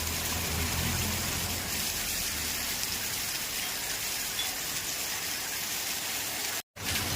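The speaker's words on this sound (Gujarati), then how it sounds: "જોઈ શકો છો ધોધમાર વરસાદ." A heavy evening downpour drums over a town market street in Chalala as a loud, dense, continuous rush of rain, broken once by a brief dropout near the end.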